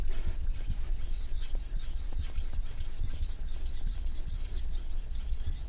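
Japanese knife blade stroked back and forth across a ceramic sharpening stone, a steady soft scraping rasp repeating in close, even strokes with no talk.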